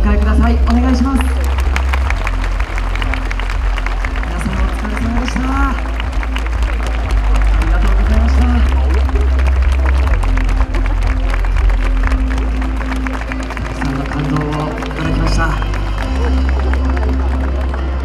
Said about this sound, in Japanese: さあ皆さん拍手でお迎えください